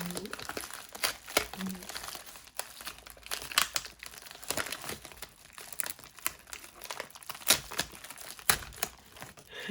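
A package is torn open by hand without scissors, producing loud, irregular crinkling and ripping of plastic wrap in bursts close to the microphone, with a voice talking intermittently.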